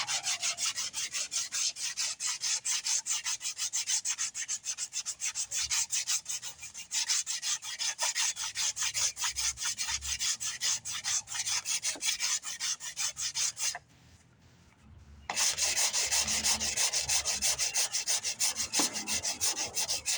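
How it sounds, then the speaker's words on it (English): A car bumper repair is dry-sanded by hand, a continuous rasping scrub with quick back-and-forth strokes, close and steady, broken by a brief pause before the rubbing resumes. "this is a dry sanding process."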